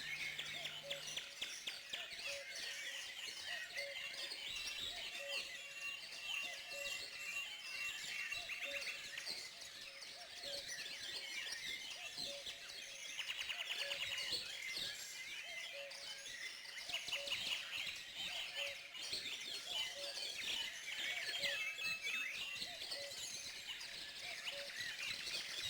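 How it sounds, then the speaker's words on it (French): Birds sing and chirp continuously through a park in the Trévarez estate near a Japanese garden, many small songbirds overlapping at moderate distance with a repeating tweet running throughout. "Les oiseaux chantent du soir au matin"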